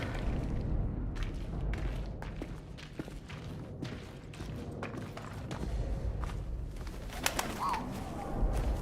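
Pigeon cooing amid ambient bird calls and soft thumps in the World War I video game 11-11 Memories Retold, a low steady cooing bed with a brief brighter call near the end.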